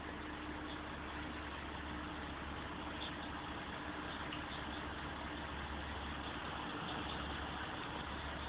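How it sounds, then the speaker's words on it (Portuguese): A truck engine idles at Portsmouth port, a steady low rumble with a faint constant hum running unbroken throughout, no voices. "tão doido querendo entrar aqui o caminhão"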